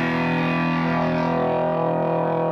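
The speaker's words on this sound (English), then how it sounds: "Distortion pedal, which overloads the signal." An electric guitar played through a distortion pedal rings out as a loud, sustained, heavily overdriven chord with a thick buzzing tone that holds steady without a break.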